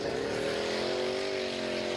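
A Formula Offroad car with a new motor and new suspension, at a 2018 event in Egilsstaðir, Iceland, revs loud and close in a steady, sustained engine drone with a slight rise in pitch.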